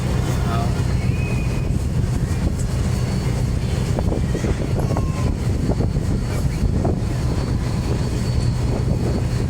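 A motorboat engine on a lancha boat drones loudly and steadily throughout, with faint voices underneath the constant rumble.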